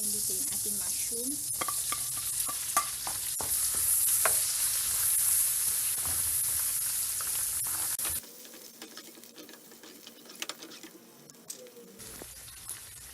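Mushrooms fry in half-melted butter in a pan with a loud, bright, continuous sizzle and scattered stirring clicks, then the hiss drops to a quieter crackle.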